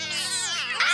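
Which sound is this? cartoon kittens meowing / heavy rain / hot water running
cartoon kittens meowing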